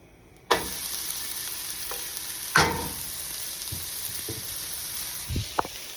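Peppers hit a hot pan for cheese steak sandwiches, bursting into a sudden loud sizzle that settles into a steady frying hiss, with a second surge and a few light clatters of stirring, and no talk.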